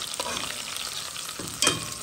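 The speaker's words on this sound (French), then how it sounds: "Je mélange bien les oignons là. Et tu vois, les oignons ils travaillent bien." Onions for a bichique curry sizzle steadily in a pan as they are stirred, a constant close fry with a couple of scraping strokes from the spoon.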